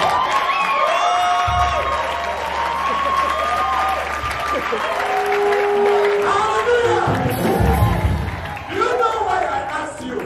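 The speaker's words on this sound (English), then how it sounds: "clap the way you've never clapped before." Wedding guests at a Nigerian wedding clap and cheer steadily throughout, a dense crowd sound beneath music and voices, with shouts rising toward the end.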